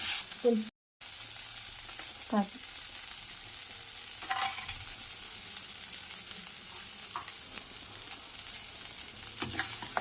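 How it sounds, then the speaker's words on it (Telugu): Chopped coriander and mint frying with browned onions in a pan for upma, a constant low sizzle with a few separate stirring scrapes, close but fairly quiet. "కొత్తిమీర పుదీనా తరిగి వేయండి, చిన్న కట్ చేసుకున్న ముక్కలు"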